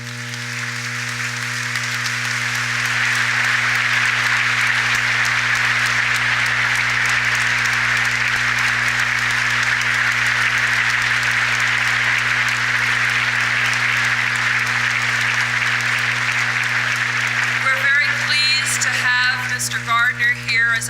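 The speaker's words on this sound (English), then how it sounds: "one more round of applause for Mr. Gardner before he speaks." A commencement audience gives sustained, loud applause that swells after the first few seconds and holds steady, with a dense wash of clapping throughout and a few scattered voices near the end.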